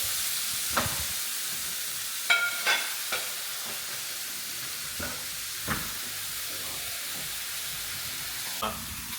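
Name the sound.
chorizo frying in a pan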